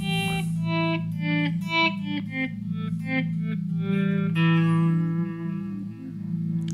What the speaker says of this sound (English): you can hear it already, there's kind of a pad going in the background